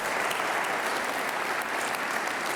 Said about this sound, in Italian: adesso l'applauso ci vuole per tutti